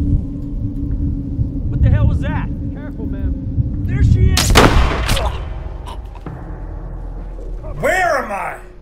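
Gunfire in The Last of Us Part II, loud bursts of shots with heavy rumble and echoing tails, a sharp burst around the middle, with a voice speaking between the shots.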